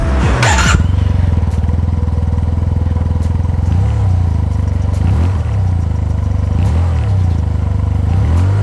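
Engine of a 2019 Yamaha TMAX 530 scooter, a two-cylinder with both pistons rising and falling together, running steadily up close with a low, throbbing, uneven pulse and a few slight rises in revs. No one speaks.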